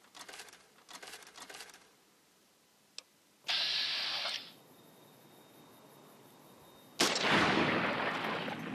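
Gunfire from Fallout New Vegas, aimed at a gecko: a single sharp crack, then two loud, longer bursts of shots close up, with quieter clicks and rattles early on.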